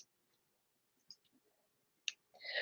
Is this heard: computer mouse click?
yes